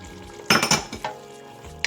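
Chopped parsley and cilantro sizzle in a hot frying pan as a utensil stirs them, with a few sharp scraping bursts against the pan. The sounds are brief, near and alone.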